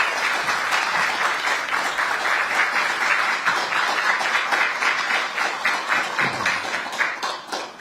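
A ceremony audience at the opening of the Ministry of Oceans and Fisheries building claps to welcome the president, a strong, even applause that gradually tapers off in the final seconds.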